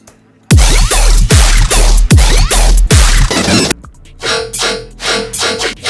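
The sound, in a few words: sidechain-compressed music track playing in Ableton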